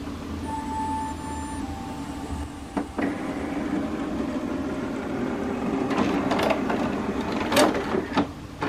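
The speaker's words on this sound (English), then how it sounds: "Once the printer has powered up, you can select the language that you need." An HP Smart Tank 7602 printer powering up, giving a low mechanical whirr with faint tones, then a run of clicks, clunks and short motor movements that grow busier toward the end, close and moderately loud.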